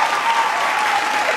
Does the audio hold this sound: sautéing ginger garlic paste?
no